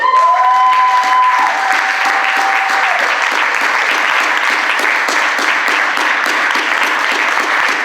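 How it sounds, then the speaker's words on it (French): A church congregation breaks into loud, dense applause at a worship service, steady clapping filling the whole stretch after a brief sustained tone at the start. "Donnez-lui les acclamations."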